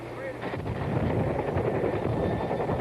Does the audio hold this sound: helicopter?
yes